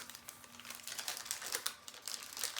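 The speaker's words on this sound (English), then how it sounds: "sort of a thin little tissue, oh, almost like a vellum envelope" A thin tissue-like vellum envelope crinkles and rustles as it is unwrapped, close and fairly soft, in quick irregular bursts of crackling with no talk.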